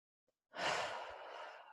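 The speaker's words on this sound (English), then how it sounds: "And take 5 deep breaths." One deep breath during a guided meditation: a faint catch, then a long, close, breathy exhale like a sigh that slowly fades, heard alone.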